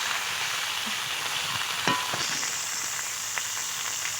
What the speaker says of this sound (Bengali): উল্টে পাল্টে ভেজে নিচ্ছি শিমটাকে।